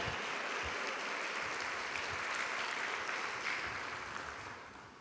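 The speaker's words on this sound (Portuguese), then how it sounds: "Aplauda o Senhor, dê um brado de vitória, amém?" Congregation clapping during a Baptist communion service, a soft, steady patter of applause heard from a distance that tapers off at the end.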